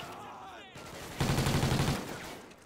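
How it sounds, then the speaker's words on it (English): A grenade explodes in a first-person shooter video game with a sudden loud booming burst that rumbles in rapid pulses for about a second before fading, after a quieter stretch of game noise. "Nade went off."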